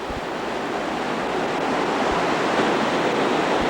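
Whitewater rapids at a river drop called Wright's Hole rush in a loud, continuous broadband roar, steady and close, with no voices.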